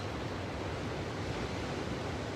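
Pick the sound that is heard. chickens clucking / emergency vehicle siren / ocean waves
ocean waves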